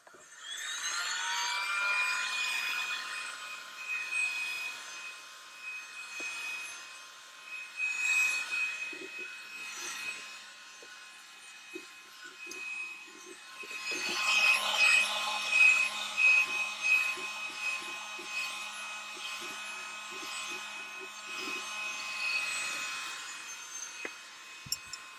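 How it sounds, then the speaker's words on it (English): A heat gun runs continuously while drying paint on a pair of Dansko clogs, producing a steady whine and airy rush that shifts slightly as it moves, close and fairly loud throughout. "let's heat gun these bad boys a little bit."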